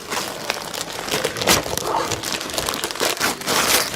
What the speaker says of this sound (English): we are unwrapping